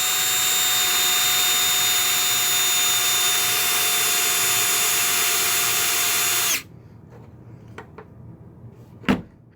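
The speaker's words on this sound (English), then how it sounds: "you guys don't got to watch me drilling a hole for 10 minutes" A power drill fitted with a dull bit runs loud and steady for about six seconds, then cuts out abruptly, leaving faint clicks and one sharp knock.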